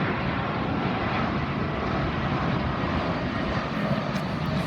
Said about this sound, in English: now we have one of British Airways flights coming in.